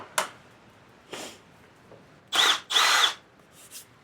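A power drill bores a hole for plastic screws during work on a lawn mower engine, running in several short close bursts, the last two longest and loudest, with faint tail-end whirs and no talk.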